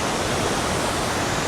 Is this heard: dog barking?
no